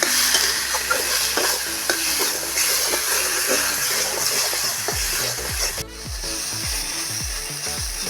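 Pieces of elephant foot yam frying in oil with turmeric and salt, stirred continuously with rattling, scraping strokes over a steady sizzle, loud and close, with a tonal background and no speech.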